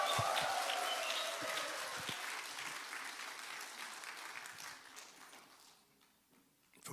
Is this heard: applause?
yes